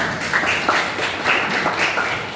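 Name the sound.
classroom applause for a student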